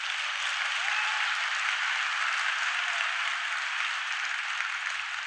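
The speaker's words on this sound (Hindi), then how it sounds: "मोरल के लिए एक बार जोरदार तालियां बजाना पड़ेगा।" Steady, dense clapping from a seminar audience at an industry group event in Kolkata, even and continuous for the whole stretch with no voices.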